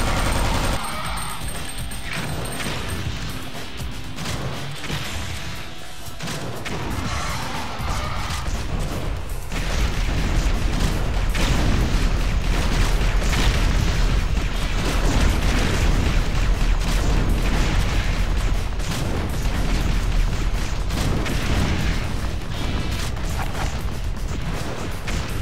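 Heavy weapon blasts and booming explosions in the game Alien Shooter 2 roll continuously over a busy mix of game sounds, loud and sustained throughout.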